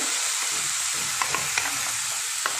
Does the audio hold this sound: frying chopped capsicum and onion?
yes